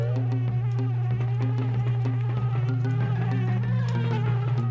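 Buzzing bees in the Banjo-Kazooie video game form a steady, loud drone that persists throughout, layered over looping game music with no talking.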